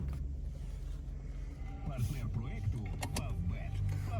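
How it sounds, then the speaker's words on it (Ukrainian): An electric side mirror adjustment motor in a Skoda Octavia 1.6 whirs in short bursts inside the car, faint and close, with some background noise and brief clicks. "Регулювання дзеркал працює. З цієї сторони також."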